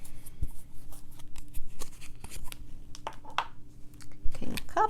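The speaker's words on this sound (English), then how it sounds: "These are all pre-shuffled, but I do a little last-minute shuffle on screen." Tarot cards riffle and slap as a deck is shuffled up close, with soft irregular flicks, taps and rustles and no talking.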